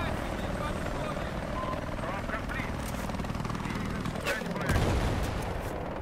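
An Apache attack helicopter drones over gunfire and explosions in the Battlefield 4 video game, with dense battle noise and players talking over it.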